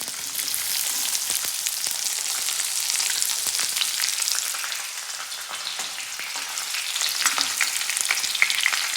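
Chopped onion fries with garlic in a hot pan, a steady bright sizzle with crackling spatters and occasional scraping stirs, close and continuous.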